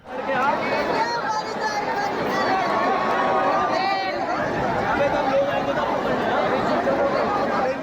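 A huge crowd of cricket fans packs Marine Drive in Mumbai, a steady loud hubbub of chatter and scattered shouts with occasional whistles rising over the din.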